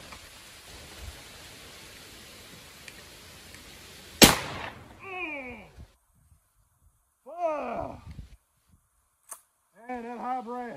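A Mossberg Maverick 88 shotgun fires a single high-brass turkey load outdoors, one sharp, loud blast with a quick decay, followed by excited voices reacting and a brief click.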